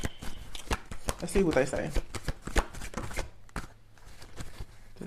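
Tarot cards are shuffled and handled up close, producing quick rippling riffles and soft slaps and taps in irregular bursts. A person speaks briefly over the card noise.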